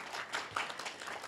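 A small audience at a town hall meeting gives a brief round of clapping, a short, moderately close patter of hand claps lasting only a moment.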